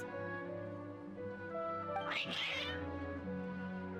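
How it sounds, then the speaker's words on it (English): Cats in Genshin Impact meow and yowl over a steady, layered game music bed, with one louder, drawn-out cry near the middle. "Oh, the cats are yelling at us."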